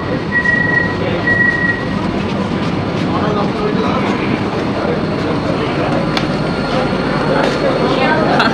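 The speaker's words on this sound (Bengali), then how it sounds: "আমাদের ট্রেন প্রবেশ করলো নৈহাটি জংশন রেলওয়ে স্টেশনে।" An AC local train on the Ranaghat–Sealdah line rumbles into Naihati Junction station, with steady loud rail noise, clacking wheels and brief high squeals from the brakes, heard from on board throughout.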